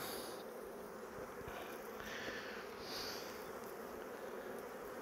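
Honeybees buzzing around a beehive frame, a faint continuous hum of many insects close by with no voices.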